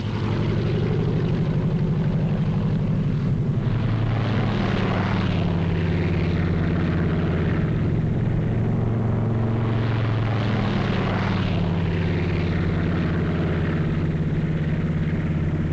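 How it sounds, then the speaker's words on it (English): Massed WWII transport aircraft towing gliders loaded with jeeps, guns and troops drone steadily in flight, a continuous loud propeller-engine roar that swells and fades slightly across the formation, with no voices. "They had massed hundreds of British and American gliders in preparation for the most gigantic aerial towing job ever attempted."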